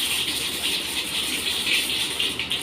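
Curry leaves, chilies and other ingredients frying in hot oil on a stove turned down to a simmer, for khaddi (morekoumbu), give a steady broad hiss and sizzle that holds close and even throughout with no talk.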